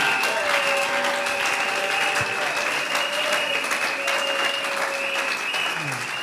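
An Easter Sunday church congregation bursts into sustained applause, dense clapping filling the room steadily for several seconds, with faint voices and a held tone beneath.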